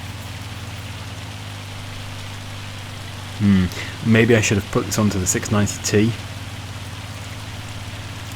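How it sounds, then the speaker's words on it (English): Steady rain in Farming Simulator 25 makes a constant soft hiss with a low engine hum from a tractor working a field, while someone talks briefly over it midway. "It's probably the rain, because it was fine in the other field."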